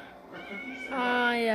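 Several cats meow close by, with a long, rising, strained yowl taking over in the second half, mixed in with people talking in the room.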